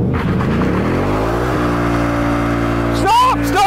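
A 2022 Ford Mustang Mach 1 V8 roars loudly during a line-lock burnout, its engine holding a high steady drone before rising into a sharper revving surge at the end, with a voice briefly under it.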